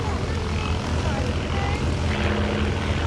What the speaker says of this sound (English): Flowing, gentle, steady aerobatics, very good smoke.